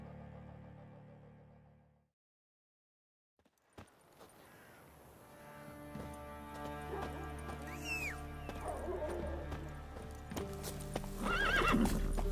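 After a quiet gap, Roach, the horse in The Witcher 3, breaks into a gallop with quickening clip-clop hoofbeats over game music, punctuated by whinnies, growing louder toward the end.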